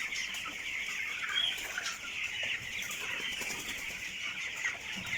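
Crowded 21-day-old broiler chickens in a farm pen flap their wings and cluck, a continuous flurry of feather beats and scattered fowl calls at moderate distance, with no talking.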